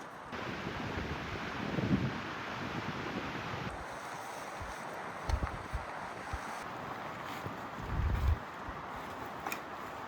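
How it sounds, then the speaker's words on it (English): Strong wind blows steadily across campsite 5, a broad continuous roar buffeting the microphone, with a couple of low gusty thumps rising out of it. No one speaks. "we'll get to experience the wind for quite some time yet"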